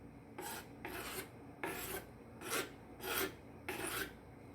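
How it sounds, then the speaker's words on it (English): Garlic grated by hand into a small bowl for pico de gallo, six quick rasping strokes in a regular rhythm, close and fairly quiet, with no talking. "Now for my garlic that you see here, I just kind of grate it in there."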